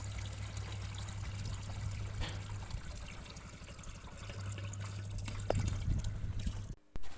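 Water trickling from a tap into a container, a quiet steady dribble with a low hum underneath and a few faint knocks near the end, distant and unaccompanied by speech.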